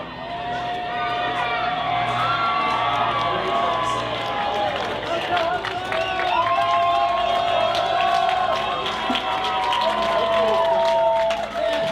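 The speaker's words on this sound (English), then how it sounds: "cheering as we head into the last quarter of the regular season" Atlanta Hustle fans cheer in the crowd at Lakewood Stadium during an ultimate frisbee game. Their shouts and whoops form a continuous roar, with an announcer's voice talking over it.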